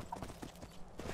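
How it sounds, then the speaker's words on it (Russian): A horse gallops up in Skyrim, its hooves clip-clopping in a steady, quiet rhythm through the whole stretch with no talk. "Прискакала ко мне моя лошадь."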